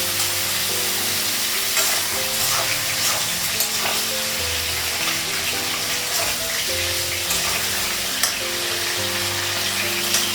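Nigella (black cumin) seeds frying in hot oil in a wok with cauliflower, a steady close sizzle and crackle running the whole time, with faint clinks of stirring and no talk.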